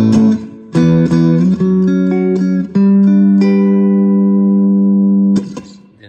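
Electric guitar played through a Positive Grid Spark Mini amp on its Boutique Clean setting: a few plucked notes, then sustained clean chords ringing out loud and close, ending with a brief strum.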